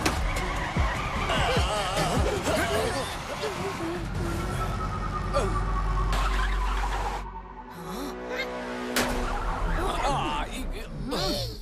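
A cartoon jeep speeds and skids while fleeing police, with continuous engine roar and squealing tires under excited shouting voices and busy sound effects.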